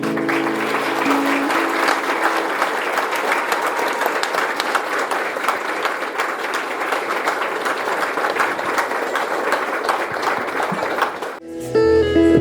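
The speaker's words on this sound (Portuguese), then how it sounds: "Vamos aplaudir esse pessoal?" Congregation at a church service reopening a temple breaks into loud, sustained applause, a dense wash of clapping that holds steady for about eleven seconds before stopping, with faint music or voices rising at the end.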